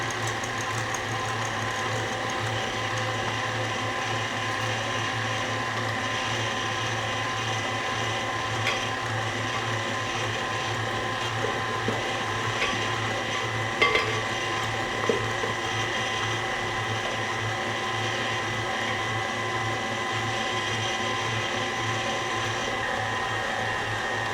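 Electric mixer whirring steadily while butter, egg and flour are worked into a dough, a constant motor drone with faint clicks of the beaters, close and unbroken throughout.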